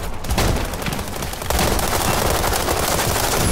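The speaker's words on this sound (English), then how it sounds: "there's a lot of shooting" Dense, continuous gunfire from the World War 3 video game, bursts of automatic weapons overlapping into a loud, steady battlefield roar that intensifies after a brief lull, with no voices.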